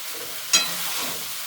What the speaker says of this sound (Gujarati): પછી એને આપણે હલાવી લઈશું.